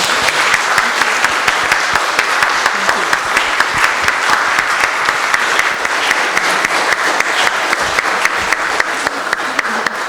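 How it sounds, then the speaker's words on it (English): Sustained, loud round of applause from a lecture audience at a Siam Society talk, dense steady clapping filling the room throughout with no break. "Let us give them another round of applause."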